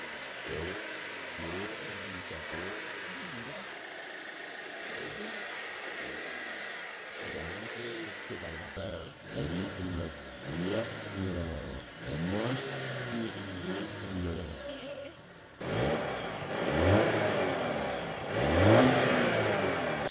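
Volvo XC60 B5 AWD with a turbocharged four-cylinder engine pulling hard under acceleration, engine note rising through repeated sweeps and growing louder toward the end, heard from inside the car.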